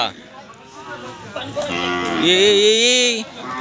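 A cow bellows during vaccination at a veterinary hospital, one long, loud, close moo that rises and wavers, preceded by brief human voices.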